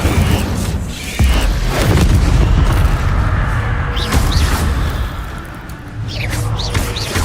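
Spells in the Hogwarts Legacy video game, including the Incendio fire spell, sound as loud booming whooshes and thuds over a dense rumbling game soundscape, with magical chimes and swishes recurring.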